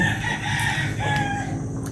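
A rooster crows loudly nearby, a drawn-out call with clucking hens around it, over a brief stretch of farmyard noise.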